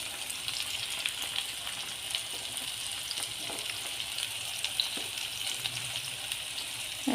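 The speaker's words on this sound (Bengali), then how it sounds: "শুধু পেঁয়াজ আর গোটা চিকন জিরা দিয়ে বাগার দিয়ে দেবো" Steady, close sizzling and crackling of onion and whole cumin frying in hot oil for a lentil tempering, a continuous hiss with small pops throughout.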